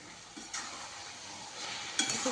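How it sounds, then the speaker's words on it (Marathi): Mashed roasted eggplant bharit being mixed with salt and coriander in a pan, a quiet soft scraping and stirring over a faint sizzle, with a couple of light utensil clicks, close and low in level with no talk. "मिक्स करून घेऊ"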